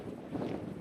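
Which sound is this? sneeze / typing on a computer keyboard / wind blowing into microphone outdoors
wind blowing into microphone outdoors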